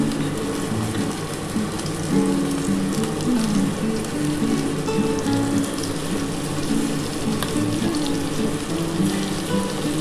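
Prawns fry in a pan of hot oil, giving a steady, even sizzling hiss that carries on unbroken, with faint tonal sounds in the background.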